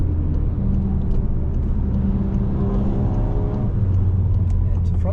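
A Golf 7.5 GTI accelerating out of a corner on the Nürburgring Nordschleife during a Touristenfahrten lap, its engine note rising steadily from the cabin in a continuous mid-level drone with road rumble beneath.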